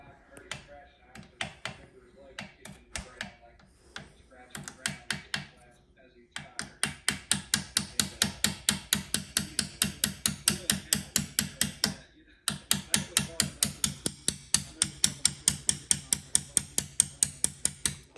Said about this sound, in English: I'm gonna grab our little hammer.